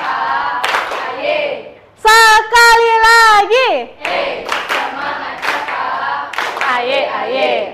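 Children's voices chant and cheer with bursts of rhythmic group spirit clapping in between, lively and close, mixed with shouted calls, in a classroom.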